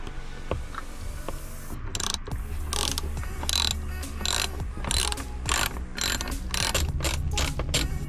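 Ratchet wrench clicking as a 10mm bolt is backed out of a car dashboard, with bursts of rapid ratcheting strokes repeating in a steady rhythm, loud and close, with no talking.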